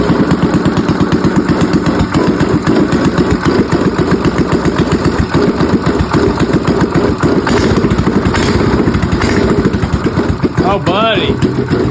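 A cold drift kart engine idles loud and close while warming up, its steady rapid putter running throughout with a brief higher whine near the end and voices talking over it.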